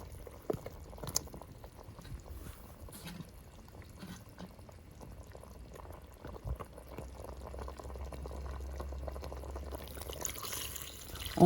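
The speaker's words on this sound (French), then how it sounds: "On rajoute de l'eau." Water is poured into a pot of fisherman's soup cooking with okra and chili. A soft, close trickle builds into a fuller, steady pour with faint bubbling and a few small clinks.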